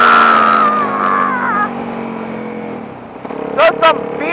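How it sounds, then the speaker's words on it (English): A beater car passes by outdoors, its engine drone loud at first and then fading. A motorcycle rider talks over it, and two brief high whines follow near the end. "So some beater car just went by"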